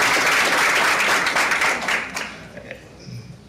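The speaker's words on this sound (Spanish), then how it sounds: "yo quiero pedir un fuerte aplauso para la embajadora de Honduras que nos acompaña aquí también" Audience applause at a digital media and social networks congress in honor of the Honduran ambassador: dense, loud clapping that fills the first two seconds, then thins and fades into scattered claps and room noise.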